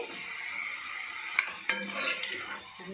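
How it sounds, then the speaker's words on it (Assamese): Chicken being stirred in a cooking pot, a brief close sizzle with two sharp metallic clinks of the spoon against the pot and soft scraping. "তাৰপিছত ধুনীয়াকৈ এইখিনি লৰাই লওঁ।"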